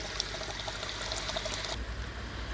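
Water pours fast and forcefully into a koi pond filter tank, a loud, close splashing rush that holds steady, then shifts to a deeper, fuller gush near the end.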